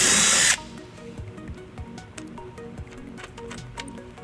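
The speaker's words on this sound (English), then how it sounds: "And then we'll drill our second hole." A power drill whirs briefly at the start while drilling a hole in a 2014 Chevrolet Impala during a wiring harness installation, followed by quieter tapping and handling noises.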